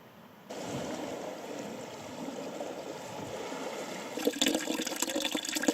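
A river in the Derryveagh Mountains of Donegal rushes down through a forested ravine, giving a steady, broad wash of flowing water that grows slightly rougher near the end.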